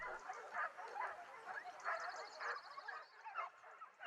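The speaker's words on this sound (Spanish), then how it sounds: "El jabalí apura sus fuerzas peleando con los perros" Hunting dogs fighting a wild boar on a Spanish montería hunt: a pack barks and yelps in rapid, overlapping bursts, fairly distant and faint, with no talking.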